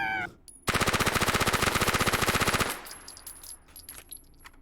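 An MP9 submachine gun in the VR shooter H3VR fires one sustained rapid burst of about two seconds, loud and close with an even mechanical rhythm, followed by fainter clatter and room tone.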